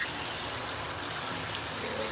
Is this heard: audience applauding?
no